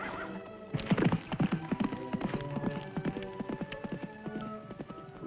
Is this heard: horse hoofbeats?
yes